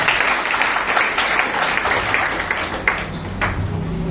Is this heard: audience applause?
yes